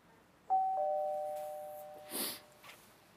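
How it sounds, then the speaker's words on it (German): A house doorbell rings with a clear two-tone ding-dong that lingers and fades, followed by a brief scuffing noise, with no voices. "Ich klingel und du sprichst."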